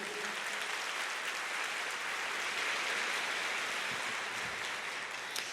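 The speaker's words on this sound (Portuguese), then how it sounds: "Pode aplaudir o Senhor?" A church congregation applauds the Lord during a sermon, a dense, steady wash of clapping that fills the room, loud and sustained throughout with no voice on top.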